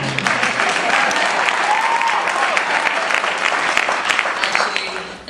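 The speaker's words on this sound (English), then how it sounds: "I would appreciate a round of applause after everything I say." A graduation audience claps continuously in a loud, dense round of applause that fills the hall, with a faint voice underneath, tapering off at the end.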